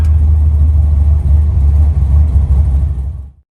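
A 1964 Chevrolet Impala two-door hardtop with a 468 big-block V8 rumbles loudly and steadily, as if revving under throttle, then cuts off abruptly near the end.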